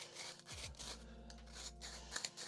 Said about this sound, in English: I'm even using the Professor Plantz grinder that came with it.